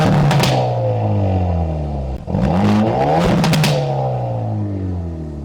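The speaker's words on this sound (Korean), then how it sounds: "벨로스터 N의 배기음을 한번 들어보도록 하겠습니다" A stock Hyundai Veloster N with a manual gearbox is revved hard while stationary. The exhaust rises and falls loudly through repeated blips, with a brief dip between them and crackling pops on the overrun.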